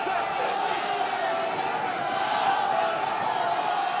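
A rugby crowd at a Connacht v Ulster match roars in a steady, dense wash of cheering and encouragement, loud and continuous with a few sharper shouts near the start.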